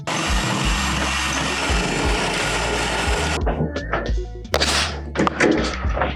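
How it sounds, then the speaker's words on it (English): A power drill whirs loudly and steadily for a few seconds enlarging a door peephole, then cuts out, followed by clunks, scraping and rattling. "I gotta grab Mr. Drill and try to open up my Peephole a little bit"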